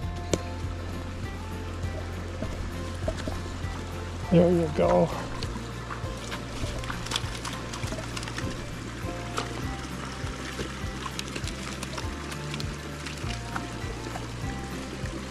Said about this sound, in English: There's some fresh running water.